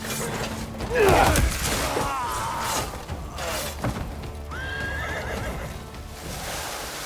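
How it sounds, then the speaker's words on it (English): A horse whinnies sharply in the video game Crimson Desert, then more neighs and snorts follow amid clattering thuds and game sound effects, all loud and close. "I was healing my horse."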